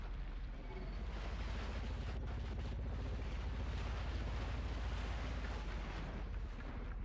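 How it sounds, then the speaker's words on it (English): Grenade blast in Scrap Mechanic, a dense, rumbling roar of low noise lasting several seconds, steady and fairly faint, with no voices over it. "I want to try the grenade on him."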